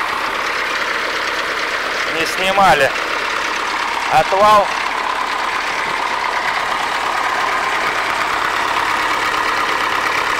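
An MTZ-80 tractor engine idles steadily throughout at a low, even drone, with a man's brief speech breaking in twice near the start.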